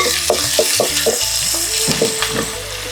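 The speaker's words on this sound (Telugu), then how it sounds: "ఈ ఆనియన్స్ కొంచెం ఎర్రగా వేసుకోవాలి" Salted onions fry in an oil-filled pan while being stirred, a steady bright sizzle broken by repeated spatula scrapes at a quick, uneven rhythm, close up with no talking.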